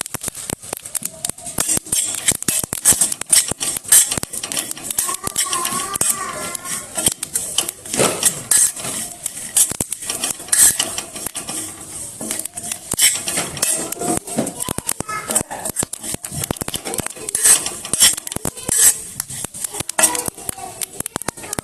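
White sesame seeds and coconut are roasted in a pan, with a continuous busy rattle and scraping of stirring, interrupted by frequent metallic clinks against the pan.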